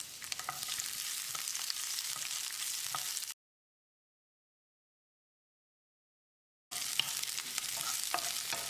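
Squares of one medium capsicum sizzle and crackle in hot oil in a pan as they are stirred, a close, steady frying sound broken by a silent gap in the middle.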